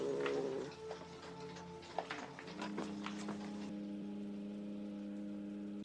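A cat meows in the 1979 film Alien, a few thin cries rising over a steady low engine-like hum and tonal drone of the spaceship setting, moderately loud and without speech.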